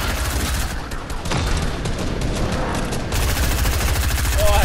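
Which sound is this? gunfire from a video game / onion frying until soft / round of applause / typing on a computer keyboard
gunfire from a video game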